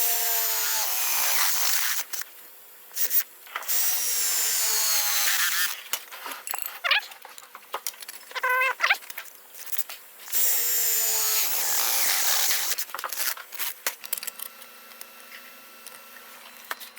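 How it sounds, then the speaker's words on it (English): A power drill drilling holes whirs in loud sustained bursts with brief pauses between, buzzing and grinding steadily up close. "ready to drill some holes"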